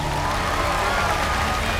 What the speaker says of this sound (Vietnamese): Ai ủng hộ Mai Anh thì vỗ tay lên nào.